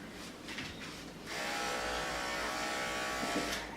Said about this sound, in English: Actually did it there with a clipper.